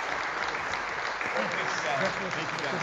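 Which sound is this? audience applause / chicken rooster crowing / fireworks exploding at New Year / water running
audience applause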